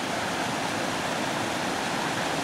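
A creek flows steadily beside a hiking route on Porcupine Ridge in Kananaskis. The rushing water fills the whole stretch as a close, continuous hiss with no voices.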